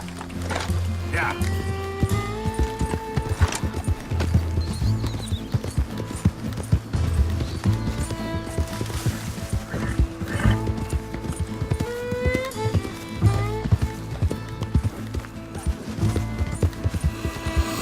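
Horse hooves clip-clop and a horse whinnies in the Red Dead Redemption 2 video game, steady and close beneath a continuous music bed, with voices talking over it.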